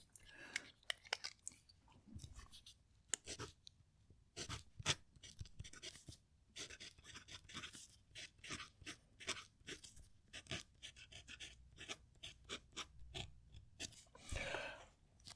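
A Jinhao 100 fountain pen scratches across Rhodia paper in short, close strokes, with quiet scraping bursts and small taps between pauses, forming an irregular rhythm of writing with no talk.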